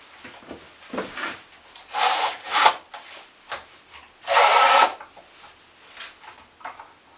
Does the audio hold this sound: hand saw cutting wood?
yes